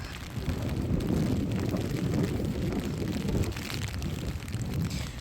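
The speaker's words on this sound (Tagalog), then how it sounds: "Sobrang mahangin." Strong wind buffets the microphone in a steady, loud rumbling roar with no letup.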